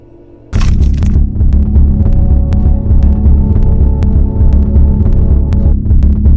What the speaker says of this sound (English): The central air conditioner spat out a heavy, rhythmic vibration,